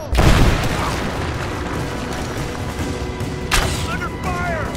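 Gunfire crackles in Rise of the Tomb Raider, a loud opening boom followed by dense, continuous shooting and battle noise, with a second sharp blast near the end and shouted voices mixed in.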